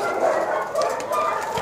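Dogs at an animal shelter bark and yelp in a dense, echoing chorus, many animals at once at middling distance, a continuous noisy din.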